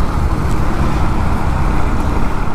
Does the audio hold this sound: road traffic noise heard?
yes